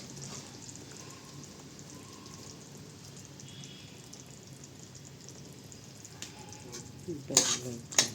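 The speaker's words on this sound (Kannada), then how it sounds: "ಸ್ವಲ್ಪ ಬೆಲ್ಲ ಹಾಕಿ ಕಲಸಿ ಚೆನ್ನಾಗಿ ಕುದಿಬೇಕದು" Tamarind mixture with jaggery for vangi bath bubbles and sizzles steadily in a pan, with soft stirring scrapes and a few sharper clatters near the end.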